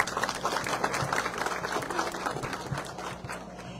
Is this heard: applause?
yes